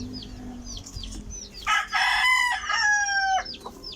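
Backyard chicks peep in quick, high repeated calls. A louder crowing call from a grown chicken briefly dominates the middle before the peeping continues, and there is no talking.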